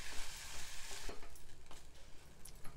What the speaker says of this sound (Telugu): దీన్ని చక్కగా కలుపుకోవాలి.